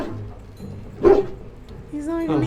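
Single sharp bark from a Mabari hound in the video game Dragon Age Origins, loud and brief over low game ambience, with a voice talking toward the end.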